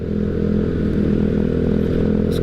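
A motorcycle climbs a road uphill toward a hillside café, its engine a steady, close drone throughout with a faint clatter riding on top.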